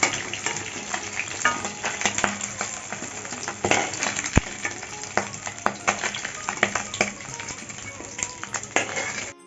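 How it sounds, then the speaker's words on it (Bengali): Continuous sizzling and crackling of rohu fish frying in oil, with stirring clinks and scrapes throughout; no talking. "এইভাবে সব মাছগুলি ভেজে নিচ্ছি"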